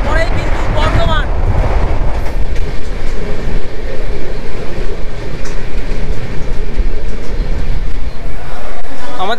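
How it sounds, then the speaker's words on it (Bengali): A passenger train pulls out of Shaktigarh station with loud, continuous rumbling and rattling carriages and clattering wheels nearby, with voices in the background. "আমাদের ট্রেন এখন বেরোচ্ছে শক্তিগড় স্টেশন"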